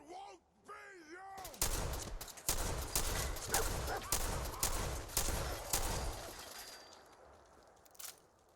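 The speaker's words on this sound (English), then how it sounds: "Somebody else shooting around that corner." Gunfire in the video game Fallout 4: a rapid run of loud, close shots and bursts sounding for several seconds, then trailing off to a few faint scattered reports, after a short stretch of wobbling electronic tones.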